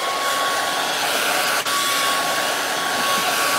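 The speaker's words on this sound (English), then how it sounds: "Now let's get this blow drying started." Hair dryer blowing on a wig, a loud steady close whoosh with a high whine, holding continuously apart from one momentary dip, with no talking.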